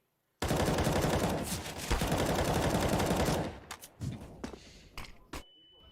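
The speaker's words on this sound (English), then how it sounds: "Firing off a lot of bullets here with the M4" An M4 rifle in Counter-Strike on the Inferno map during a professional match fires a long, loud sustained burst of rapid automatic shots. It breaks into a few scattered single shots and fades, with a commentator's voice faintly beneath.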